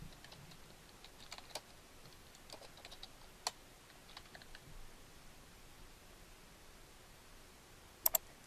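Light typing on a computer keyboard, faint scattered key clicks over a quiet background hiss, ending with a few sharper taps.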